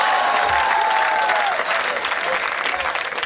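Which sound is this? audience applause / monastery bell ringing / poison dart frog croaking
audience applause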